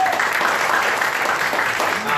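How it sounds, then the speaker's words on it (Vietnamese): Brief applause from an audience at a Vietnamese product presentation: a thick, even wash of clapping, loud and close, with voices faintly underneath. "Các anh chị hãy vỗ tay thật lớn để cảm ơn chị Ngân ạ."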